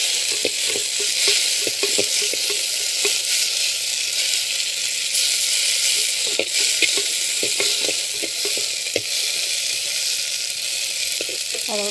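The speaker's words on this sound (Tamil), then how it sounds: "சின்ன வெங்காயம் இதுவும் நல்லா வதங்கட்டும்" Small onions sizzle and fry steadily in hot oil in a pan for a balloon vine herbal rasam, with occasional stirring scrapes, loud and close throughout.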